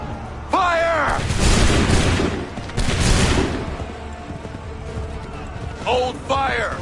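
Musket volleys in the Assassin's Creed 3 video game, two loud crackling massed bursts of fire from a line of soldiers, separated by shouted commands and voices between and after them.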